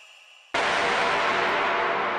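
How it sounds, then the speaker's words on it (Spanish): Heavily pitched-down crash cymbal effect from an electronic track, bursting in abruptly after a quiet hum and sustaining as a loud, dense, dark wash of noise. "Tenemos este efecto de crash."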